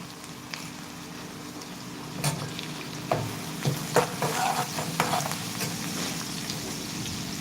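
Curry leaves sizzling in hot oil after asafoetida goes into a pan for potato bhaji, a low steady fry that breaks into a burst of crackling spits and stirring noises midway through.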